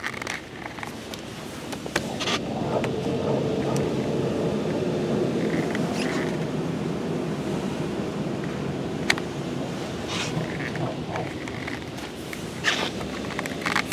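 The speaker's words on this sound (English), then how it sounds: "We're just waiting in the car wash right now" Inside an automatic car wash, water sprays steadily against a car in a continuous broadband hiss and rush, with a few sharper bursts and knocks. Heard from within the vehicle, with no talking.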